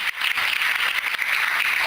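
Congregation applauding during a Portuguese-language evangelical church service, a dense steady wash of clapping that holds at an even, fairly loud level from start to finish with no voices on top.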